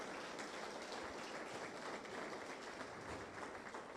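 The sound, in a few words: church congregation applauding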